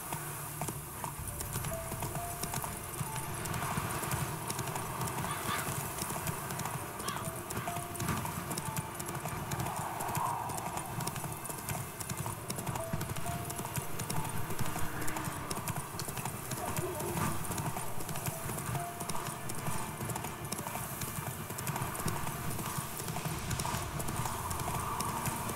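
Hooves clip-clop at a fast steady gallop as Roach, Geralt's horse in The Witcher 3, runs continuously under faint game ambience, with a brief whinny-like tone midway and occasional background voices.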